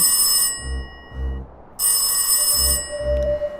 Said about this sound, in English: Or, that telephone ringing.